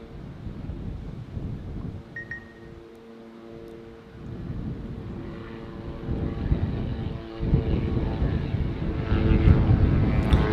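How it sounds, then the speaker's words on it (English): A helicopter, likely a tour flight, passing overhead near the erupting Kilauea volcano in Hawaii, a steady low rumbling drone that swells louder toward the end, with wind buffeting the outdoor setting and no talk. "Sounds like we got a whirlybird up top."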